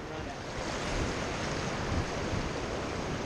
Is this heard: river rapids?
yes